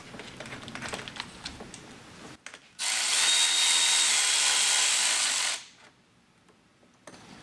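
Countersunk screws with dress washers being driven into fender mount tabs on a 2023+ Speed UTV El Jefe, with clicking and ratcheting from handling hardware, then a loud sustained power-driver whir lasting about three seconds before stopping.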